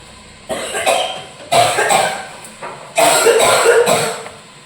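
Three loud, harsh coughing fits from a child close by, each a rough burst lasting about a second, separated by short quiet pauses, as onions go into a pot.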